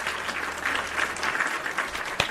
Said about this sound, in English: Applause for the Chancellor.